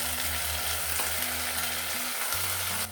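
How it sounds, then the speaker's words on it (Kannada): Cut raw banana (plantain) pieces fry in hot oil with a steady, dense sizzle that fills the whole stretch, a low hum running beneath it and no voices. "ಇದು ಅಷ್ಟೇ ಎಣ್ಣೆಯಲ್ಲಿ ಒಂದ್ಸತಿ ಚೆನ್ನಾಗಿ ಹುರ್ಕೋಬೇಕು"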